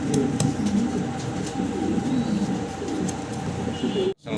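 Pigeons at a seller's stall cooing repeatedly in soft, rhythmic low calls, close by, over steady background hum, with a brief dropout near the end.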